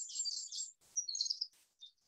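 Bright high-pitched bird chirps and tweets in several short bursts, fairly clear and close, with brief gaps between calls and no talking.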